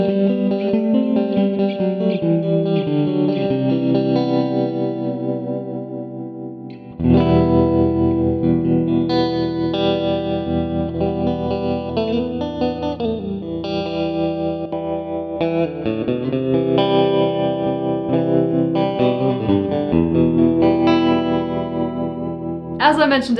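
A GTRS P800 electric guitar with upgraded humbucker pickups played through its built-in intelligent effects processor, giving loud sustained distorted chords and lead notes thick with chorus and echo, with a short break around seven seconds before the playing resumes.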